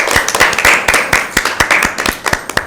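A small group claps for team B at a Bible quiz in a school setting, loud close handclaps in a quick, uneven rhythm lasting a few seconds with no talking.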